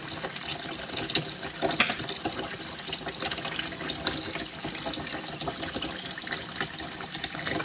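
Hands being worked under a running tap while lathering homemade hot-process dandelion soap, a continuous hiss of flowing water with small wet splashes and squelches, close and steady, no talking.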